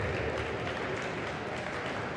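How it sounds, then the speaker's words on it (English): Steady, dense applause from a crowd at a swimming pool during a grand prix finals session in Durban, greeting a swimmer at the finish; the clapping is fairly soft and continuous throughout, with no distinct individual claps standing out. "You can hear the applause."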